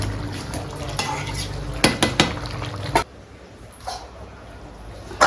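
Potatoes are stir-fried in a pan with a soft sizzle under repeated clattering scrapes and knocks of a utensil against metal. The frying fades into quieter room noise partway through, and a dog may bark faintly.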